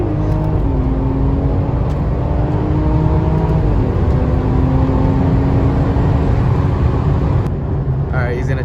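A BMW F30 with the B58 engine holds a loud, sustained rev against the brakes during a brake-boost launch, the droning engine note rising and steadying over several seconds with voices faintly underneath.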